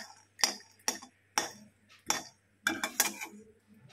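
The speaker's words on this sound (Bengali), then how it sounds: "বাদামকে আমি খালি কড়াইয়ে তেলে নিচ্ছি, মানে তেল ছাড়াই ভাজা করে নিচ্ছি" Peanuts dry roasting in an empty wok without oil, heard as a series of sharp metallic clinks and scrapes from a spatula, spaced irregularly and fairly quiet.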